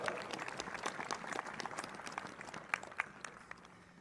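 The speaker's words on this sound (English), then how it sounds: "Let's give a round of applause to the Annapolis Symphony Orchestra's brass quartet." An audience at a governor's inauguration ceremony applauds a brass quartet, a dense, fairly distant wash of many hands clapping that slowly fades toward the end.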